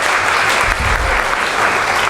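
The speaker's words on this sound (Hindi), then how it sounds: "ज़ोरदार तालियाँ हो जाएँ" Loud, dense applause from an audience at an open mic poetry event during an awards ceremony, steady clapping filling the space throughout with no talking.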